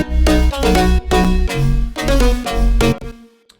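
Layered EDM lead synth stacking many high bright layers over little low end, playing a loud melodic phrase of rhythmic chord stabs with a thumping low pulse, stopping abruptly near the end.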